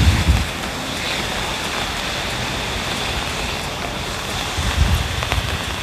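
Rain falls steadily over Showa Kinen Park among wet Somei Yoshino and Yoko cherry trees, a constant even hiss with a few low gusty rumbles near the start and end.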